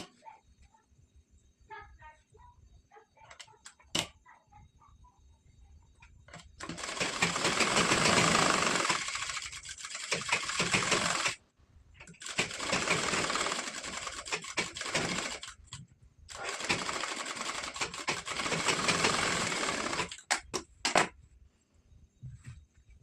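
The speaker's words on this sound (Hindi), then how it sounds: "दोनों साइड हमें इसी तरह से सिलाई करनी।" A sewing machine stitches a sleeve onto a three-piece princess-cut blouse, running in three long, steady bursts with brief stops between them, preceded by quieter handling clicks.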